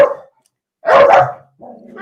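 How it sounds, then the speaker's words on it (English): Small dogs barking in a burst of several overlapping yaps, fairly close and loud, followed by a lower whimpering or growling sound, with no talk over them. "Look at the dog."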